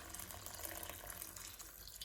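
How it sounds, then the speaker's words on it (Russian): Boiling water from a kettle poured into a pot, a steady, faint, hissing splash of liquid running continuously without talk. "Заливаю все кипятком."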